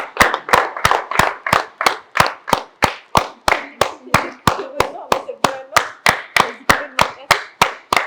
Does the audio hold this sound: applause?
yes